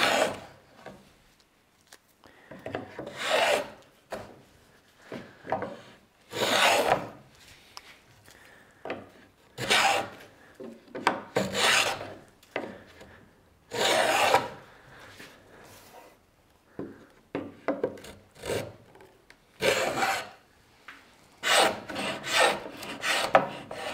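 A homemade rebate plane built from a chisel cuts a rebate along a clamped wooden board, producing repeated rasping strokes in bursts with short pauses between passes, close and fairly loud.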